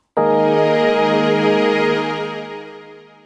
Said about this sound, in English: by just pressing this upper layer button, we are adding in some strings to make the sound richer.